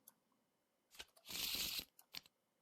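A deck of playing cards for a tabletop card game being shuffled up close: a few quiet taps and flicks, then one rapid riffling burst of about half a second, followed by more soft card clicks.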